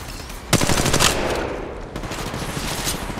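Dense automatic weapon fire from an Apex Legends battle royale match on Kings Canyon, rapid loud bursts of shots running continuously with a short gap, close and overlapping, with no talk over it.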